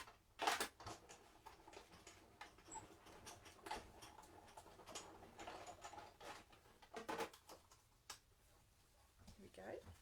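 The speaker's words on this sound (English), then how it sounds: "our die machine." A die-cutting machine cranking a die through for card making, giving faint ratcheting, whirring mechanical clicks in an uneven rhythm, quiet and close.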